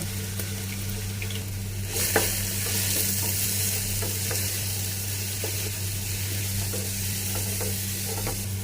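Green masala with a spoonful of salt sizzles steadily in a pan for beef biryani, with a constant close frying hiss and occasional light stirring scrapes, and no voices.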